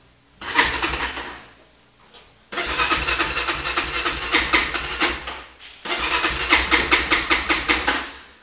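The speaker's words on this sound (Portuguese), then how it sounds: "Ah, moto, não quer ligar." Motorcycle engine failing to start: three bursts of rapid rhythmic cranking, each lasting a couple of seconds and separated by short pauses, with no catch or sustained running, heard up close.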